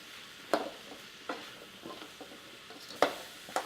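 A spoon scrapes and knocks against a pan several times while spices for a vegetable curry are stirred, over a faint background sizzle with no talking.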